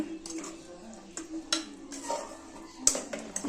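A spoon scrapes and clinks against a pan while a biryani masala mixture is stirred, giving soft, uneven knocks and rubbing scrapes over a faint sizzle, with sharper metal clicks near the middle and end.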